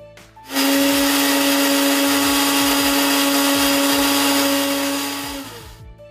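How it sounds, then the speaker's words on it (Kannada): A kitchen mixer grinder whirs steadily as it grinds grated coconut with fried masala, turmeric and a little water, its motor starting abruptly, holding a loud, even drone for about five seconds, then stopping. "ನಾನಿಲ್ಲಿ ಅರ್ಧ ತೆಂಗಿನಕಾಯಿನ ತುರಿದು ಮಿಕ್ಸಿಗೆ ಹಾಕ್ಕೊಂಡಿದ್ದೀನಿ"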